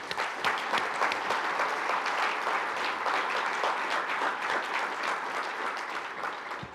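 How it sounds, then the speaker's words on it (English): An audience at a university medical school's annual address claps steadily, a dense, even wash of applause that holds at a constant level throughout with no talking. "this deserves a round of applause"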